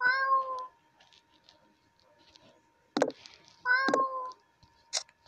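A cat meows twice, clear and close, each call drawn out and tonal, with quiet gaps of small rustles and a few short knocks between them.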